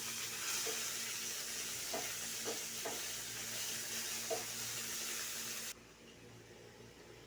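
Pieces of papaya going into a pan of fried onions: a steady hiss of sizzling oil with a few soft stirring clicks, which drops away abruptly near the end.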